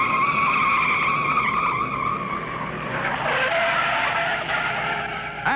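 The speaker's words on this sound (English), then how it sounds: "Look out, two cars spinning." Race cars spin out at the 1961 Daytona 500 at Daytona International Speedway, with tires skidding in a loud, sustained squeal. Engine roar shifts in pitch as the cars slide, with no talk over it.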